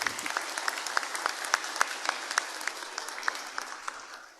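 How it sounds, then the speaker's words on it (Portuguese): A Lutheran church congregation gives birthday celebrants a short round of applause, steady mid-distance clapping from a modest crowd with distinct individual claps standing out, easing slightly toward the end. "Uma breve salva de palmas para os aniversariantes"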